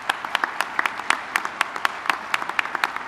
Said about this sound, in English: give your parents a thoughtful and prayerful applause, please, for your parents